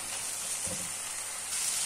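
A potato and mince mixture with pepper paste fries in a pan, giving a steady close sizzle, with a brief soft scrape of stirring partway through.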